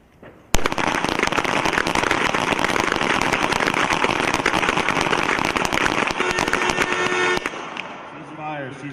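Pistols fire in a U.S. Army team pistol match, a sudden dense barrage of sharp overlapping cracks from many shooters lasting about seven seconds before stopping abruptly, with faint voices afterward.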